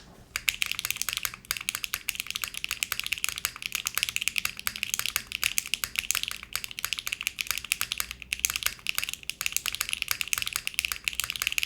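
Mechanical keyboard with PBT keycaps typed on steadily and continuously, a dense run of crisp, thin, slightly glassy clacks at close range with no talk.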